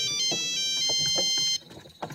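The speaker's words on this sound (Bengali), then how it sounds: "ফোনটা বেজে ওঠে" A cartoon mobile phone ringing with a bright melodic ringtone of repeated electronic notes, loud and alone, cutting off partway, followed by faint sounds.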